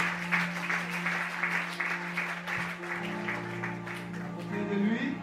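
A church congregation applauds for Pastor Fongo at a 2014 worship gathering: steady, fairly close clapping from many hands, lasting throughout, with a sustained musical tone beneath it.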